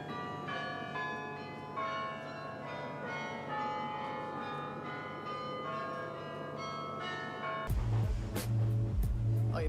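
Church bells in the Netherlands ring out a tune, clear and sustained with overlapping tones, before other louder noise cuts in at the end.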